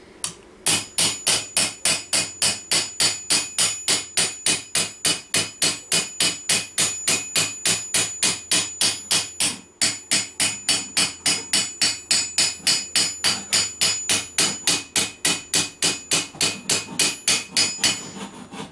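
Steady, rapid hammer blows ring against medieval armour plate being creased, dozens of sharp metallic strikes in an even rhythm with a brief pause midway.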